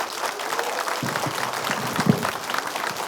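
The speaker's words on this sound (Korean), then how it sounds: "마지막으로 큰 박수 부탁드리겠습니다" Audience at a university lecture by a provincial vice-governor clapping in sustained, dense applause throughout, fairly steady in loudness with no speech over it.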